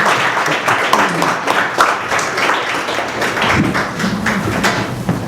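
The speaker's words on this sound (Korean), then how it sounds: "큰 박수로 축하해 주시기 바랍니다" An audience at a book launch celebration for a philosophy translation applauds warmly, with dense steady clapping from many hands filling a room for several seconds.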